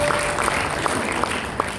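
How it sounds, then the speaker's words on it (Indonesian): A church congregation at a Christmas service applauds in a steady, dense wash of clapping, with a few sharper claps standing out near the front, for under two seconds. "Kita berikan tepuk tangan yang dahsyat."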